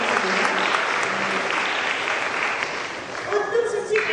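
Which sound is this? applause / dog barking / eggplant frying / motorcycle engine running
applause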